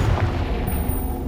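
A Confringo spell explodes in the Hogwarts Legacy video game, a loud, close boom with a low rumbling tail filling the short moment.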